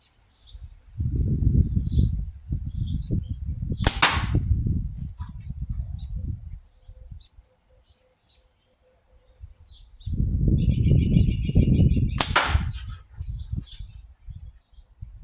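Slingshot shots with heavy bands and heavy ammo striking a metal can in front of a catch box: two sharp, bright impacts several seconds apart, each over a stretch of low rumbling handling noise, with quiet gaps between.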